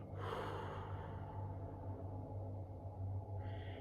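A single slow, deep breath is drawn in and let out, soft and close, with a low steady hum underneath and no talking.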